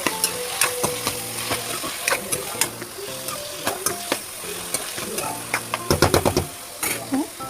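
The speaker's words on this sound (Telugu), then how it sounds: "వేసాక ఇలా యాడ్ చేసుకున్నాం కదండి, యాడ్ చేసుకున్నాక మనం బాగా కొంచెం మిక్స్ అయ్యేలాగా కలుపుకోవాలి" Vegetable masala Maggi noodle ingredients stirred in a pan, with repeated scraping and clinking strokes over a steady sizzle, the strokes quickening near the end; a voice talks faintly underneath.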